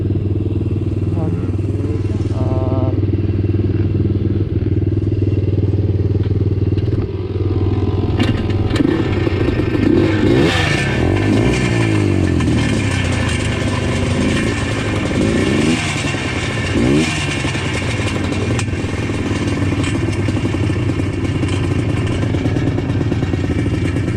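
A Yamaha Blaster quad's small engine idles loudly and steadily close by, with rattling clatter and a few uneven revs throughout, under voices.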